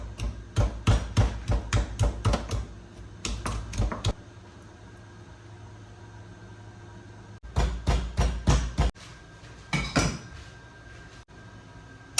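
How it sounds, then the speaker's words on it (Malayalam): Ginger and garlic being crushed for a pressure-cooker beef curry, heard as rapid runs of sharp, close pounding thuds in two bursts separated by a quieter pause, with a few scattered knocks near the end. "ഇഞ്ചിയും വെളുത്തുള്ളിയൊക്കെ ഒന്ന് ചതച്ചെടുക്കുക."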